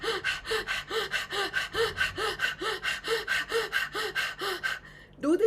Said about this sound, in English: start with what is called Swan Pranayam, the panting dog pranayam, inhaling and exhaling actively